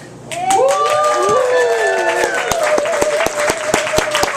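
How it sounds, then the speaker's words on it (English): A comedy club crowd at a benefit show in a bakery cafe bursts into applause, with sharp evenly spaced claps standing out and loud whooping voices rising and falling over them. "If you guys applaud loudly enough."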